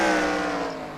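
NASCAR Sprint Cup race cars roar past at speed during the Goody's Headache Relief 500, a loud, dense engine howl that fades slightly as they go by.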